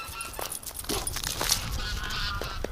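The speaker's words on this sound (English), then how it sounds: "The goose is just freaked out." Startled geese honking on a winter farm with ducks, a burst of agitated, moderately distant calls overlapping in quick succession.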